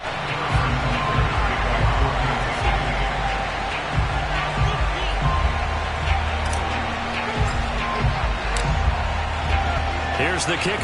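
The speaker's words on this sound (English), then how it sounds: "The enthusiasm of this Cincinnati crowd in full effect a moment" A sold-out Cincinnati Bengals football stadium crowd roars steadily before kickoff against the Kansas City Chiefs, a loud, dense wash of cheering with a commentator talking over it.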